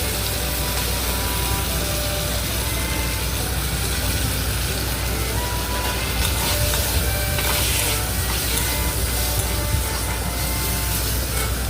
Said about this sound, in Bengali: দিয়ে ভালো করে নাড়তে হবে টমেটো সসটা